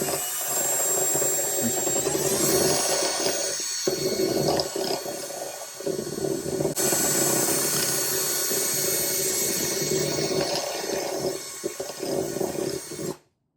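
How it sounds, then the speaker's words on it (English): A drill fitted with a countersink bit deburrs the jagged edge of a metal pipe, making a loud, continuous grinding whir with a few brief dips before it cuts off at the end. "We're going to use it to deburr or smooth out these jagged edges on the pipe."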